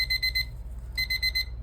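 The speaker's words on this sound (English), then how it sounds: "It's my timer." A kitchen timer alarm goes off while someone works on a fabric and paper stitched butterfly craft, sounding as fast repeated electronic beeps in two bursts, close and clear.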